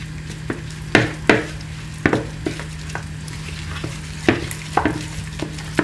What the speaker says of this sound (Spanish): hacemos así y vamos mezclando